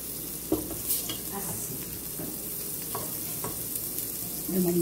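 Butter sizzling as it melts into two spoonfuls of olive oil in a pan, a steady soft frying hiss with occasional light clinks and stirring scrapes, close and continuous.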